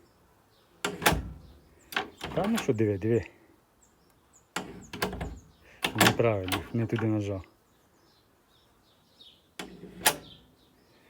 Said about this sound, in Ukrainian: О, двері закриваю сюди.